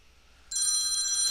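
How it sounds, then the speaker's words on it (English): A cell phone rings at a wrestling event, its bright electronic ringtone starting abruptly partway through and holding steady and fairly loud over a quiet room. "my phone is ringing"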